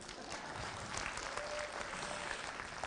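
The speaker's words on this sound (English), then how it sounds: "Harry Reid, yes, you can applaud on that." Faint, distant crowd applause at a California Republican Convention speech, a dense, continuous wash of clapping that holds steady throughout without voices on top.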